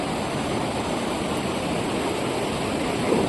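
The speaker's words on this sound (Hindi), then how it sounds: "इस झरने की आवाज़, पानी की आवाज़।" Steady, loud rush of a waterfall and a fast-flowing river near a Kali Mata temple, a dense unbroken roar of water close by with no voices.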